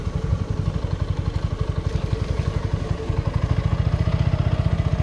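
A motorcycle riding through heavy rain on flooded roads, its engine chugging in a fast, even pulse close to the mic, loud and continuous with no talking.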